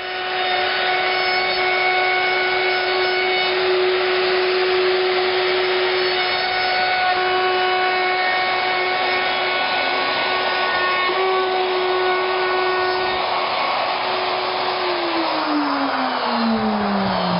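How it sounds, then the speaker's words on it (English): Power router trimming the timber frame of a chicken coop, a loud steady high-pitched motor whine running continuously near the mic, pitch dropping slightly toward the end as it slows. "just ready now for the router treatment, going all around, trimming everything back neat to the framework"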